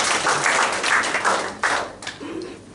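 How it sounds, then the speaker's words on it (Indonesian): A church congregation bursts into brief applause, a dense wash of many hands clapping that swells and fades over a couple of seconds, with a few louder separate claps near the end. "Tepuk tangan untuk Tuhan Yesus."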